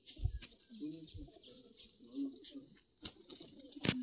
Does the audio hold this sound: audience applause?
no